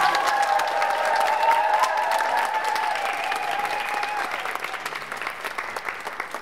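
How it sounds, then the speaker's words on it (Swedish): Warm, sustained crowd applause for the event's volunteers at a closing ceremony, steady and full for several seconds before thinning slightly toward the end. "Ett supervarm applåd till dem!"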